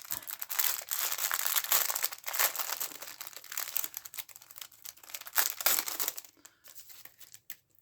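A crinkly plastic package of gold organza ribbon being opened up close, with bursts of loud crinkling and rustling that go on and off, ending in quieter handling.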